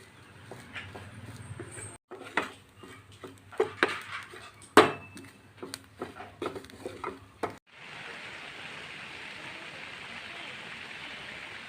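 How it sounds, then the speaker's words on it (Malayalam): Garlic, ginger, curry leaves and grated coconut roast in a pan for a brinjal theeyal, with scraping stirs and clinks of a spatula up close, then a steady even sizzle in the last few seconds. "ഇതെല്ലാം കൂടെ നമുക്ക് നല്ലപോലെ ഒന്ന് വറുത്തെടുക്കാം"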